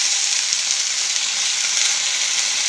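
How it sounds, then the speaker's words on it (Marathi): Cumin and mustard seeds sizzle and crackle steadily in hot oil, a close, continuous bright frying hiss with no voices. "आता आपल्याला जिरे मोहरी घालायचे मैत्रिणींनो"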